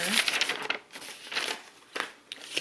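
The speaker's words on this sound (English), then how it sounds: "let me get a piece of paper." A sheet of paper is picked up and handled, with crinkling and rustling bursts close by, mixed with brief bits of a person's voice.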